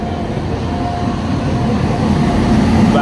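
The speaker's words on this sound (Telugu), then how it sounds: "వ్యాగ్నర్ లోకోమోటివ్తో ఒక ట్రైన్ అయితే వచ్చింది" A passenger train hauled by a locomotive arrives at a station, its loud, steady low rumble building gradually over the whole stretch.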